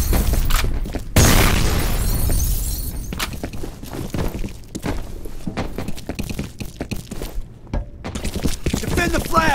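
A grenade blast in the shooter F.E.A.R. lands as a loud broadband burst early on, followed by a dense mix of crashing debris, impacts and gunfire-like clatter that continues throughout.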